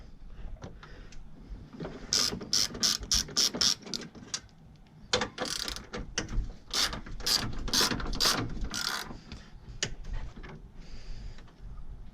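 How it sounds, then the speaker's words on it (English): A ratchet loosening bolts while removing the radiator from a Toyota Highlander, several bursts of quick sharp clicks separated by short pauses, near and loud, no talking. "We'll pull these bolts here."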